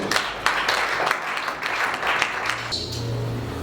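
A church congregation breaks into applause: scattered, uneven clapping that builds and thins over a few seconds, moderately distant, with a faint hum in the room.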